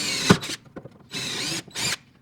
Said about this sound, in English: go ahead and break this through the floor so that that rivet falls out underneath